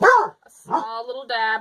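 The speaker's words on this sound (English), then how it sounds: "Pardon the dog." Dogs in a craft room let out a short bark followed by whiny yips and whimpers, close and fairly loud, while a person talks over them.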